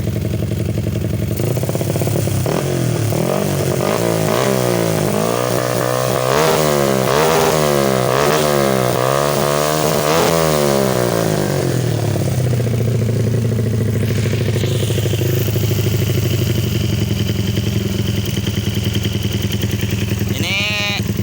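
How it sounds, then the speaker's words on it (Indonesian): Yamaha Jupiter MX motorcycle with a 225cc bore-up engine, running close by, loud and rough, revved in repeated rising and falling pulses and then settling into a steady idle, with a few spoken words underneath. "Ini motor ber-cc 225 cc, beginilah suaranya lah. Menggelegar, cukup menggelegar ya."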